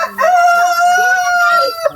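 A fighting cock crows once in a long, loud, close cock-a-doodle-doo on a farm, its drawn-out call dominating the moment with a faint voice beneath.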